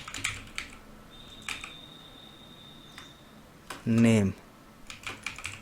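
Keys on a computer keyboard tap in scattered light bursts while text is entered in MS Word, close and soft, with a short spoken word in the middle.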